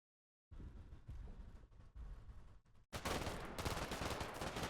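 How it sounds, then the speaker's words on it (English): Gunfire in the video game Combat Mission: Black Sea, a dense rattle of rapid automatic shots and bursts, growing heavier and louder in a continuous barrage toward the end. "Can we stop shooting at our own building, please?"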